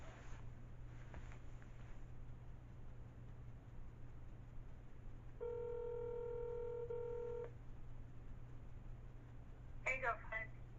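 Telephone keypad tones while dialing a call back from a car, a short run of steady dial beeps over a low engine hum, followed by a brief burst of quick electronic tones.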